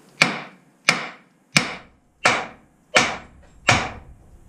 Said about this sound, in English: Some people say you want to pound here to break it loose